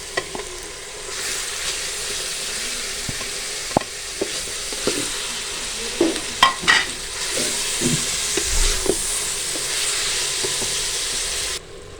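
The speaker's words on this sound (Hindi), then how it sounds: "लहसुन अदरक को भूनते हुए 2 मिनट हो गया। अब हम इसमें कीमा शामिल कर देंगे।" Half a kilo of beef mince frying with garlic and ginger in a pan, a steady loud sizzle with occasional stirring clatter and spoon knocks throughout, no voices.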